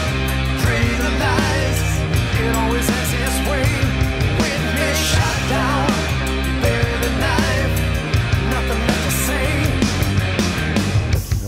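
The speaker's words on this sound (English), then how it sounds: "We're putting the finishing touches on a rock song here at the studio." A rock song being mixed in a recording studio plays loud and full, with driving drums, distorted guitars and bass in a steady beat, no talking over it.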